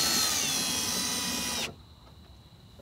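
A Milwaukee power drill spins out the bolts holding a truck's side mirror on a Toyota Tundra, a loud high whine held steady for about a second and a half before cutting off abruptly, leaving a quiet room.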